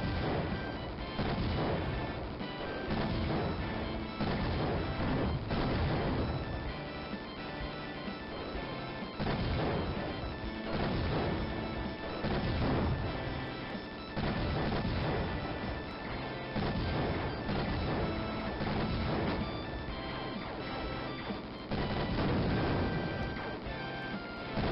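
Machine gun fire in the air combat video game Raptor: Call of the Shadows, a loud, dense, nonstop barrage of rapid crashing bursts with no pauses for the full length.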